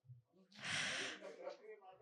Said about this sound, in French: Mariam reprend alors son souffle et sa respiration.